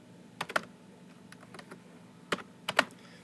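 Someone types a web address on a computer keyboard: a few short bursts of crisp, close keystroke clicks, grouped in quick pairs with brief pauses between them.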